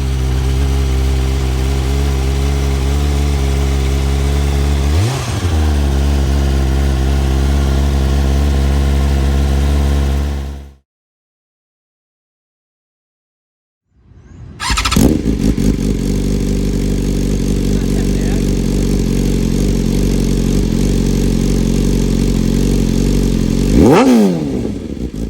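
A BMW M 1000 R motorcycle fitted with a full Akrapovic exhaust, idling loud and close with deep throaty rumble and blipped revs. After a few seconds of silence the engine fires up again and revs.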